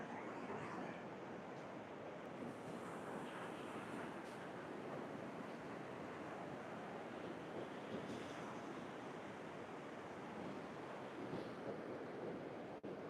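Ocean surf washes continuously onto the shore, a steady broadband roar with gentle swells and some wind buffeting the microphone, no voices present.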